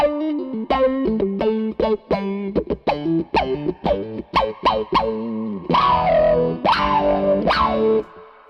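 Electric guitar through a KO Amps Interstellar Burst filter pedal cutting the top end, picked in a choppy rhythmic riff, then sustained chords with the filter opening and closing, loud and close.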